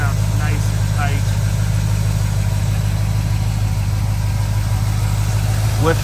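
A 1967 Buick GS400's 455 V8 with an Edelbrock aluminum intake idles with a deep, steady rumble and even low throb, close and loud, with faint squeaks over it.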